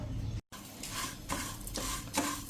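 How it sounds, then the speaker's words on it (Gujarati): Whole spices for dry kachori filling roast in a pan over a slow flame while being stirred. Soft scraping strokes and a light crackle fill the short stretch, with one brief dropout near the start. "અત્યારે આપણે આ શેકી લેશું સ્લો ફ્લેમ ઉપર"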